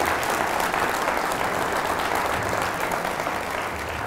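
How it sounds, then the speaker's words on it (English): Audience at a city State of the City presentation applauding, a dense, steady wash of many hands clapping at close-to-moderate distance that continues unbroken throughout. "So let's give all those folks a round of applause."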